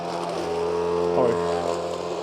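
A MOWRATOR S1 AWD mower drives through rough, extreme terrain, its motor giving a steady close tonal whine that rises and strains briefly in the middle before settling back.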